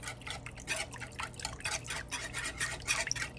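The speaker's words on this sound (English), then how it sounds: "Then I like to mix it up with a whisk." Tomato paste being whisked into pizza sauce in a bowl, a steady run of soft, wet clicking and swishing strokes close by, with no voices.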